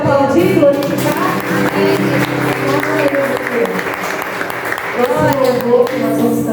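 A congregation claps steadily throughout a church service held in a garage, the applause mixed with singing voices and music in a reverberant room.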